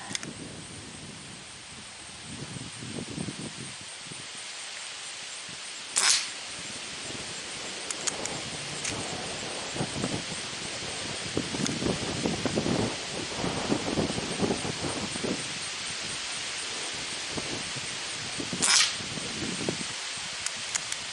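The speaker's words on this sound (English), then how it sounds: "Wind's starting to pick up again." Wind blows outdoors at a prairie dog target shooting range, a steady broadband rush with gusty swells and a couple of sharp louder gusts buffeting close by.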